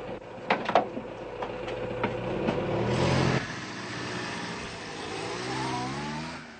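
A car door thuds shut a few times, then an engine revs hard and the car pulls away fast, its roar swelling nearby and then fading into a steady, receding drone.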